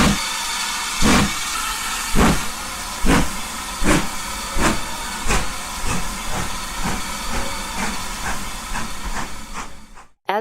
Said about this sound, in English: As the train makes its way across the countryside toward the distant coal mines